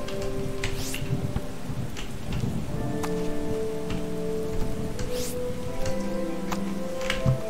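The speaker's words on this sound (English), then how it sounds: "Oh, it sounds like it's raining or something." Steady rain patters continuously in the Starbound video game, with soft crackling drops and low rumbles underneath throughout.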